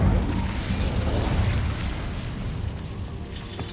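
Incendio fire spell from Hogwarts Legacy, a loud whooshing burst of flame at the start that fades into a rumbling, crackling tail, with no voices over it.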